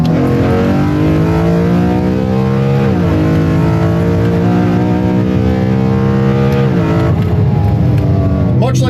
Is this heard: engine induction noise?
yes